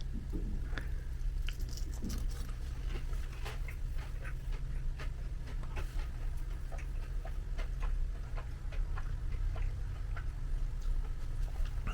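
Crispy battered fish fillet being bitten and chewed up close, with steady crunching and squishy chewing ticks over a constant low hum, no talking.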